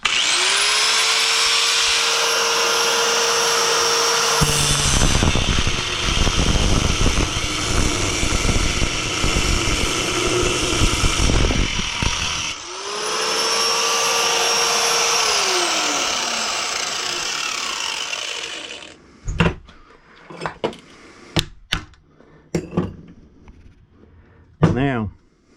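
A power tool cuts a part off a ceiling fan, whining up to a high steady pitch in two long runs with a pause between, then winding down, followed by a few sharp clanks and knocks.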